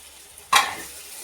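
Green chillies and tomatoes dropped into a hot pan of oil for chicken biryani, a sudden loud sizzling burst that fades into a steady, quieter frying hiss.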